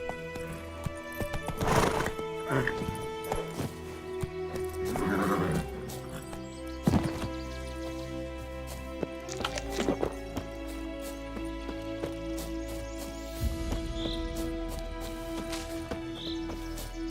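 Roach, a horse in The Witcher 3 video game, neighs and whinnies loudly several times over steady clip-clopping hooves, with a layered game soundscape underneath.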